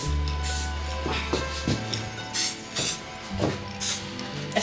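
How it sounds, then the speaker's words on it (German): A spray can releasing a light mist in an office studio, several short hissing bursts in a row at close range, with a low hum underneath. "du sollst mit einem leichten Sprühnebel wie beim Schuh imprägnieren"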